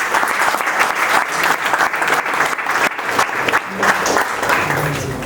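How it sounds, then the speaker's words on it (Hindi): People seated at a youth organization's working committee meeting in Nashik, Maharashtra give loud, sustained applause. The clapping is dense and uneven, with brief dips and swells. "इस ऐसे युवा साथी भाई गोविंद जी के लिए शानदार तालियां हो जाए"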